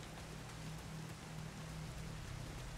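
Steady rain falls in a Pokémon video game, a soft, even hiss with a low hum beneath it and no talking.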